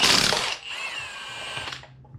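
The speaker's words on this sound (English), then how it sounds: "it basically gives it just enough power to break the bolt loose, and then it goes into slow mode" A power tool breaking a cylinder head bolt loose during an LS engine teardown: a loud burst of hammering impact, then a steady whining spin that slows and fades out, with no talking.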